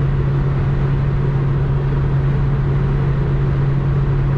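A 1992 Citroen ZX running flat out on the highway near top speed and overheating, heard from inside as a steady, loud engine drone with a strong constant hum and road rumble, no voices.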